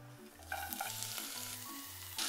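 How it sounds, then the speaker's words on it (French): Onions sizzle in about a tablespoon of oil in a hot saucepan, a steady close frying hiss with stirring scrapes throughout. "Je mets équivalent d'une cuillère à soupe d'huile et je mets les oignons."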